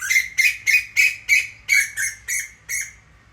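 A koel calls outdoors among other birds. Nine loud, harsh, evenly spaced notes come close together in a steady rhythm and fade slightly toward the end. No speech.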